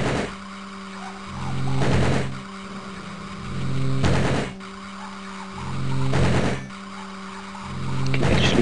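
Machine-gun fire striking a lizard man's metal skin in the video game DEUS, coming as four rhythmic bursts of rapid impacts over a steady humming background.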